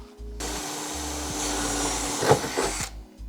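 A power drill with a metal bit boring into a Honda Accord Euro during a spoiler install, one sustained whirring burst of about two and a half seconds, close and steady, with a brief rise near the end.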